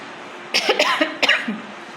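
Several short, raspy coughs close to the mic, coming in a quick cluster over a faint background hiss.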